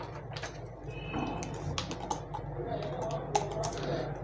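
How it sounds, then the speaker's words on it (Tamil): Keys clatter on a computer keyboard as a letter is typed, a quick irregular run of light taps sitting under a low steady hum, with faint voice nearby. "இப்போ அடுத்தது நான் ஒரு லெட்டர் டைப் பண்ணுறேன்."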